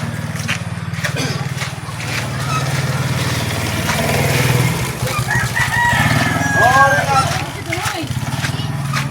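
A rooster crows nearby over a steady engine rumble, with people talking throughout and faint birdsong in the background.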